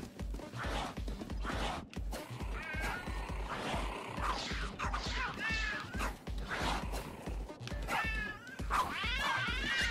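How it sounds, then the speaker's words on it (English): A huge cat in the video game Tokyo Jungle meows repeatedly in loud, wavering yowls over steady thumping game music and effects, the cries rising and falling throughout. "This is such a fat cat!"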